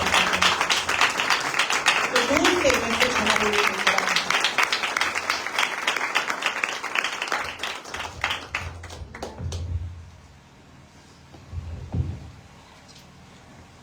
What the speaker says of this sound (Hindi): आपकी जोरदार तालियों में खुदा के खादिम पास्टर सुहेल को यहाँ पर दावत दूंगी